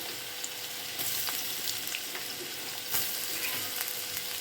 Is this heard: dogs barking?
no